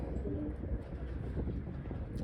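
Pigeons coo softly in a coop, low murmuring calls repeating faintly against a quiet background with no talk.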